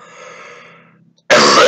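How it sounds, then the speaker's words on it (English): A single sharp, loud cough bursts out after a faint, fading tone and a moment of silence, close and dry. "Wow, solid cough."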